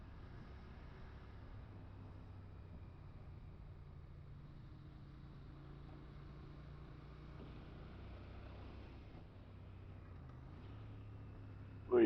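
A Royal Enfield Interceptor 650 motorcycle rides along a dry road, its low, steady engine drone heard from the rider's position with faint wind noise, rising slightly near the end.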